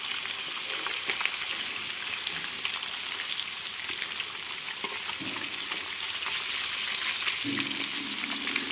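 Rohu river fish from the Padma frying in oil just after being flipped, a steady close sizzle with crackling spatter throughout and a few scraping stirs near the end.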